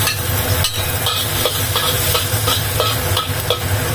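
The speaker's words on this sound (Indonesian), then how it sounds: "Sekarang kita masak ya. Kita masukkan bawang putih" Loud, steady sizzling of garlic hitting hot oil in a pan for Hong Kong-style cooking with fermented black beans and pork, with faint regular scraping taps of a utensil running throughout.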